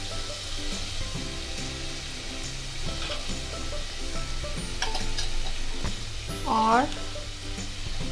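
Asafoetida and turmeric dropped into a hot pan of oil for besan kadhi, hissing in a steady close sizzle with a few clinks and stirring scrapes, a brief word spoken near the end.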